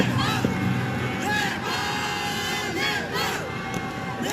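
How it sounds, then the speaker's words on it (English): Stadium crowd at a Nepal vs Netherlands T20 World Cup cricket match roars and cheers continuously, a loud dense wash of voices with shouts and whistles rising through it. "This crowd is just pushing this Nepal innings along."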